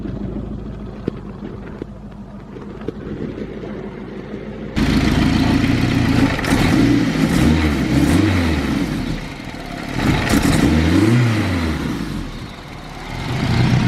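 A turbocharged, K20A2-swapped Honda CRX engine idles, then revs hard in several rising and falling pulls, loud and close with no talking.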